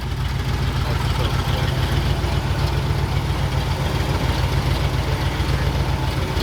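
An old Ford F-250 truck, abandoned for 21 years, runs its engine hard with a loud, steady, low rumbling drone that stays constant for over six seconds, close and dominant.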